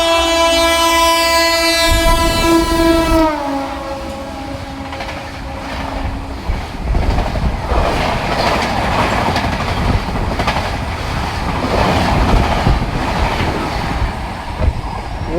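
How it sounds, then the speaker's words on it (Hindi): Indian Railways 12932 double decker express sweeps past up close, opening with a long loud two-tone horn blast that fades into a sustained roar of rushing coaches and rumbling wheels. "आ रही है 12932 डबल डेकर एक्सप्रेस,"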